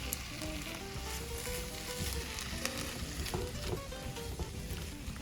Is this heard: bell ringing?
no